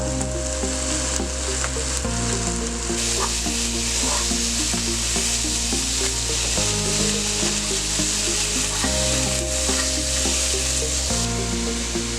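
A pot of classic chili is stirred after sugar goes in, with steady close sizzling and repeated scraping and rubbing strokes of a spoon against the pot, continuous throughout with no voices.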